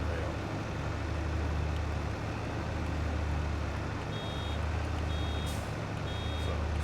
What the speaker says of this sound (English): pay attention when you hear the alarm going off so that you can be prepared to slow down and then stop to let it eject the bail